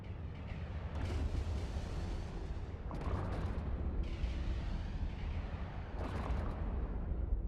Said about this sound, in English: Now they're shooting the other guy.